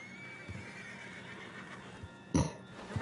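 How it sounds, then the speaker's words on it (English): A horse whinnies loudly near the end of a short stretch in the Red Dead Redemption 2 video game, with a few soft hoof or tack clinks earlier over a steady background hum. "Put Strauss on the back of John's horse"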